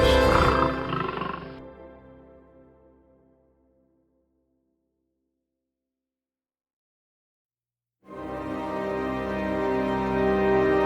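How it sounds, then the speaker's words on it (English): Mapogo lions roar deeply while charging a herd of Cape buffalo, loud harmonic roaring that fades into a few seconds of silence before another powerful roar bursts back in close and sustained. "the sound of hooves pounding the ground, the rapid breath of the prey, and the deep roar of the predators"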